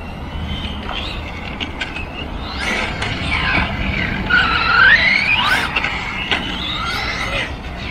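A Reely RC car's tires lose grip as it accelerates, giving a continuous, moderately loud skidding whine and scrub with rising squeals in the middle, close by.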